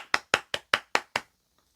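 Hands clap six times in a quick, even rhythm, each clap sharp and close, then silence.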